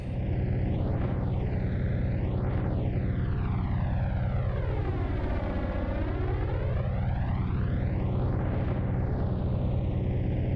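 P-38 Lightning twin engines droning loudly and steadily in Microsoft Flight Simulator 2024, a continuous propeller roar with a smooth sweeping whoosh as the aircraft passes low over the ground.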